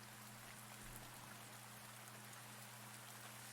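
Soft rain sound effect playing during an ASMR reading stream, a steady faint hiss of falling drops with a low constant hum underneath, no voice present.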